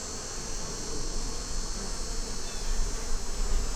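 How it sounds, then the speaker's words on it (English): Honey bees buzz in a thick, continuous drone around an open beehive during a spring inspection, close and steady, with the swarm's hum swelling slightly near the end and no speech. "you got a bunch of bees festooning, which is building a foundation down"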